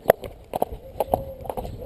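A horse's hooves clip-clop on the ground in an irregular rhythm during groundwork training, close and fairly clear, with steady thuds throughout the short stretch.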